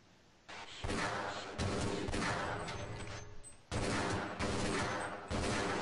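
A .357 revolver in Half-Life fires a series of heavy, booming shots in close, irregular succession, each with a long echoing tail, loud and up front.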